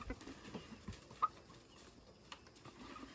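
Hens in a coop cluck softly and intermittently in the distance, faint against a quiet background.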